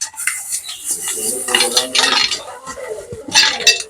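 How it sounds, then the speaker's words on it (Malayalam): Popcorn being stirred in a pot at home: steady scraping and rattling of a utensil against the pot, with clinks and a busy clattering texture throughout, near and fairly loud. "അപ്പൊ വീണ്ടും നമുക്കിതൊന്ന് ഇളക്കി കൊടുക്കാം."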